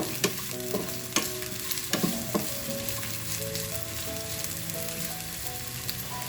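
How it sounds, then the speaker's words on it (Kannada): Sliced onions fry in oil in a pan, a steady sizzle with a spoon scraping and clinking against the pan at irregular moments; no one speaks. "ನೋಡಿ, ಈರುಳ್ಳಿ ಚೆನ್ನಾಗಿ ಸ್ವಲ್ಪ ಫ್ರೈ ಆಗಬೇಕು"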